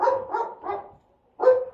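A neighbor's dog barks three times in quick succession, then pauses briefly and barks once more, moderately loud and slightly distant, with no talking.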